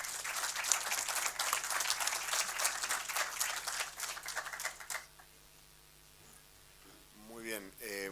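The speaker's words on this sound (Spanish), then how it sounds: "le pido que lo recibamos con un aplauso" Audience applause for a guest speaker at a 2018 members' assembly of a chemical industry association, steady dense clapping for about five seconds before fading out as a voice begins.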